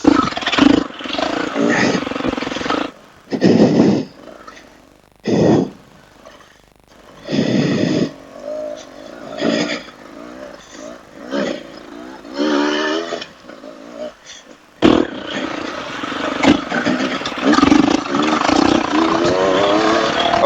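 A Beta 200RR two-stroke dirt bike engine revs in sharp, repeated bursts, loud and close, with stretches of idle between blips and a rider talking over parts of it.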